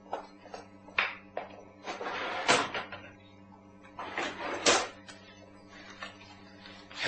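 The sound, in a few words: drawer being opened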